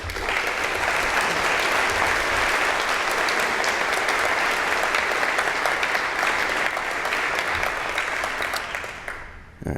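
Loud, sustained applause from a large audience fills a diploma ceremony hall for nearly ten seconds, dense and even before tapering off sharply at the end.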